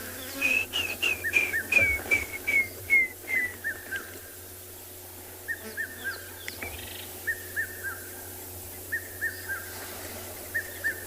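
A water thick-knee's run of clear whistled notes that fall and slow, repeated in several separate phrases from a moderate distance near water in South Africa, with faint insects and no talking.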